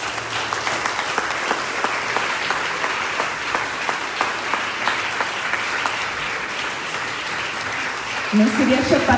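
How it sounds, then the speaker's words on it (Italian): Loud, sustained audience applause at an outdoor festival talk event, steady dense clapping throughout, with a voice coming in near the end. "tutti questi applausi sono un tributo sicuramente meritato per te"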